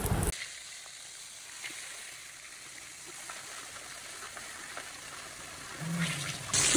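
Pieces of rohu fish frying in hot oil in a home kitchen pan, giving a faint, steady sizzle and crackle throughout that swells slightly near the end.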